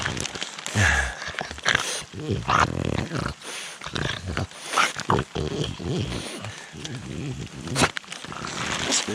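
Soaking-wet dogs growling and snarling close by in a rainy Carpathian mountain forest, rough and continuous, mixed with rustling movement and a voice speaking over it.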